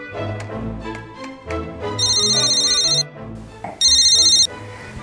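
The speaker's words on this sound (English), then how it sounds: "I'm calling Dr. JR right this minute" Two bursts of electronic telephone ringing, each about a second long, over busy background music with percussive hits.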